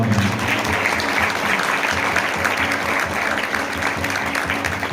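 Steady applause from a church congregation fills the whole stretch, a dense, even patter of many hands clapping without pause.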